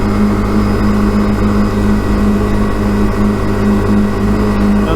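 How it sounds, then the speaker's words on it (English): A car drives at about 60 km/h, heard from inside as a loud, steady engine drone with road rumble and a constant hum, with no voices. "I'm only driving in like 60 kilometers an hour"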